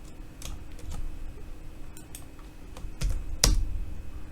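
A password typed on a computer keyboard, a scattering of sharp nearby key clicks in an irregular rhythm, with a louder cluster of taps near the end, no one speaking.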